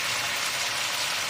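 Chicken pieces fry with added coriander powder in a pan, giving a loud, steady, close sizzle with no pauses and no voices.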